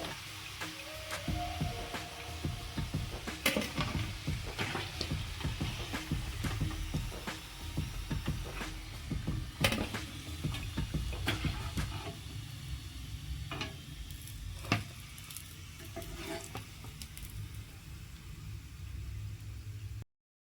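Mutton kachoris fry in hot oil in a home kitchen, a soft low sizzle punctuated by scattered clinks and scrapes of a utensil, fairly quiet throughout.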